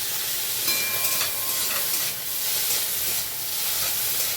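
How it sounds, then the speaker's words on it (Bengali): A spice paste of black pepper, cardamom, ginger, garlic, green chilli, onion, tomato and peanuts fries in oil in a kadai. It gives off a steady, close, loud sizzle with occasional stirring scrapes. "মশলাটা ভাজা হয়ে গেছে"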